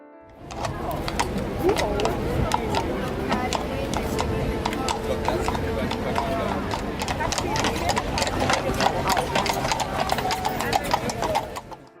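Horses' hooves clip-clop steadily on a street in Berlin, Germany, a dense, continuous rhythm of close hoof strikes lasting throughout, with people talking and traffic engine noise in the background.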